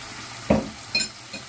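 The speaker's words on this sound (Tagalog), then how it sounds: "Igisa lang natin ng mabuti." Tomato sauce and ketchup sautéing in a pan for sweet and sour fish, a steady close sizzle broken by a few brief scraping stirs, with no voices.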